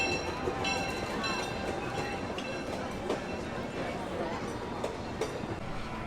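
A Steel Vengeance roller coaster train crosses overhead at Cedar Point amusement park, a continuous rattling rumble heard from nearby amid general park crowd noise.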